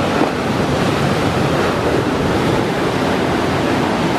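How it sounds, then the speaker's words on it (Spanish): Ocean surf roars steadily on a beach during shore fishing, a dense, continuous wash of breaking waves mixed with wind rumble. "Viene una olaza, se lo lleva."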